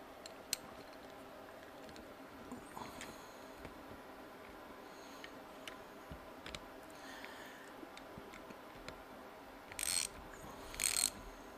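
Ratchet tightening a bolt on the starter of a Yamaha G29 gas golf cart, heard as faint, sparse clicks and ticks over a quiet hum, with two brief louder bursts near the end.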